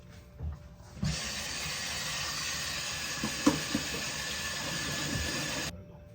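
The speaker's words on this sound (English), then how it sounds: "We're gonna rinse it. We're gonna wash it real quick." Tap water runs steadily into a kitchen sink while steak is rinsed, a soft even hiss starting abruptly, holding for about five seconds with faint clinks, then cutting off.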